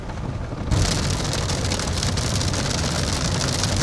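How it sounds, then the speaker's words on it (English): Heavy rain drums steadily on a moving car during a storm in Nigeria, starting suddenly and then holding a loud, dense wash of noise, with road rumble underneath. "Here's the rain."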